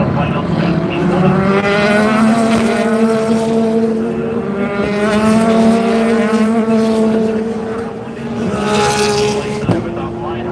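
GT3 and prototype race cars roar past at the Rolex 24 at Daytona, a loud continuous engine drone with rising and falling pitch as cars pass close by, under a commentator's voice.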